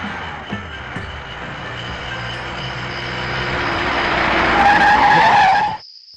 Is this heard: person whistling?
no